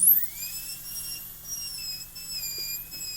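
A dental drill bur whines steadily at a high pitch while cutting a mandibular Class II tooth preparation, a sustained close tone with shifting overtones and no talk.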